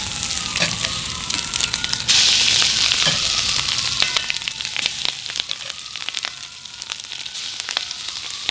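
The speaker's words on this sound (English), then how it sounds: "we're going to go ahead and cook up these pig patties here" Pork patties sizzle and fry loudly in vegetable oil on a hot griddle, a dense steady hiss with crackling pops and sharp scraping clicks, swelling brighter partway through.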